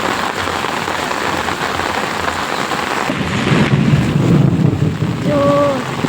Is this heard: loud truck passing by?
no